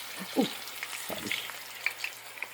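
Onion browning in hot cooking fat gives faint, scattered crackles and soft stirring clicks over a quiet background.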